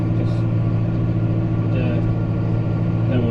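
A farm tractor, kept as a backup on a cattle farm during winter feeding, idles with a steady, close, low mechanical rumble, while someone talks over it.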